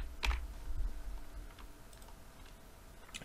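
A few light computer keyboard keystrokes tap out a short command, quiet and close, with scattered clicks over a soft background hiss.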